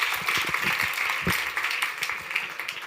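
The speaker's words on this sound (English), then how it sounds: "Give him a big round of applause" Audience applause after a keynote talk at a digital health conference, a steady wash of many hands clapping at moderate level with no clear voices over it.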